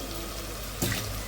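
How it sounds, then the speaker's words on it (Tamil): Brief splash of water poured into a pot, a short burst of running liquid against low background hum. "தண்ணி ஊற்றி"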